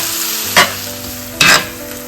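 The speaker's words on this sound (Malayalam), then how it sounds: "അതിന് വീണ്ടും പഴയ പണി തന്നെ വീണ്ടും നമുക്ക് ഇളക്കിക്കൊണ്ടിരിക്കാം കേട്ടോ." Tomatoes frying in a pan with a loud steady sizzle, broken by two sharp close scrapes of a spoon stirring, no one talking.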